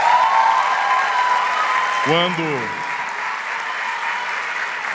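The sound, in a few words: audience applause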